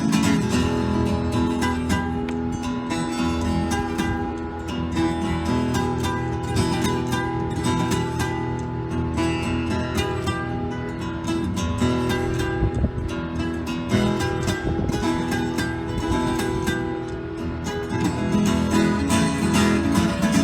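A long, loud, continuous wailing imitation of a train whistle, dense and steady throughout with no talking.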